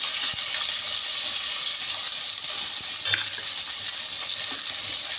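Shallots frying in oil in a pan for chicken gravy: a loud, dense, steady hiss of sizzling with occasional faint stirring clicks.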